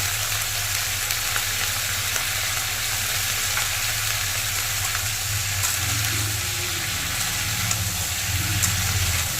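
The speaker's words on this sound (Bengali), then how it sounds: "ভালো করে লালচি করে ফুলকুচিগুলোকে ভেজে নেব" Steady sizzling and frying of cauliflower with salt and turmeric in a hot wok, continuous and fairly loud, with occasional stirring scrapes and a low hum underneath.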